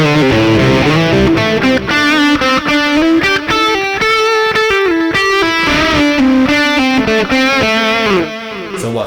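Loud distorted electric guitar through a Mooer preamp with UK Gold distortion and an 808 boost, playing a sustained, singing lead line with bends and held notes, heavy gain and a touch of reverb.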